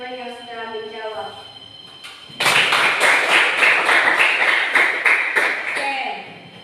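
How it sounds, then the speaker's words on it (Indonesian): Classroom audience applause for students who answered a question, a burst of clapping that starts suddenly and holds steady for about four seconds after a voice speaks. "Kita beri aplaus untuk teman-teman yang sudah menjawab."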